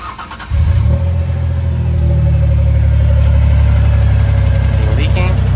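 A 2000 Ford Ranger's 3.0 V6 cranks briefly, then catches and starts, settling into a loud, steady idle close by that runs to the end without any voices.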